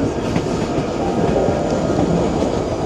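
Train ride in Skagway, Alaska, with a steady, loud, continuous rumble of railcars rolling along the track and faint clickety-clack, no voices.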